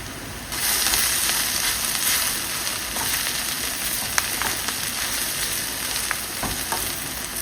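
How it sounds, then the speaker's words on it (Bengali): Green chillies, slit open, fry in hot oil in a pan with a steady loud sizzle and crackle throughout, dotted with a few sharper pops and spatters. "দিয়ে দিচ্ছি কয়েকটা কাঁচামরিচ একটু চিড়ে চিড়ে"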